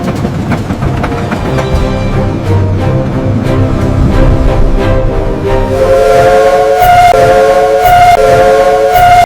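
A train rumbles along the rails, loud and continuous, with a sustained horn-like tone rising near the end and no speech.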